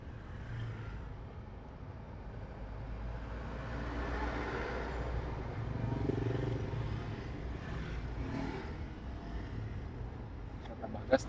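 Manual car creeping through narrow, congested market traffic on half clutch without throttle, a low steady engine drone inside the cabin with faint surrounding traffic, no voices.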